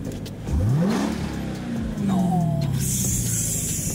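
A new car's engine revs hard in two rising bursts, swelling and falling back between them, loud and close while people talk over it.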